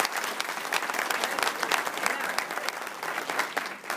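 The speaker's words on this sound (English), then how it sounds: "One more round of applause." A crowd applauding steadily for a few seconds, dense clapping from many hands in a large room, fairly distant.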